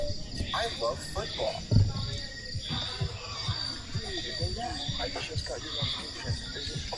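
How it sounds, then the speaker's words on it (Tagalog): Crickets chirp in a steady high drone outdoors at night at a campsite in Mendez, Cavite, running continuously under nearby talking and occasional thumps. "Puro kuliglig lang marinig mo"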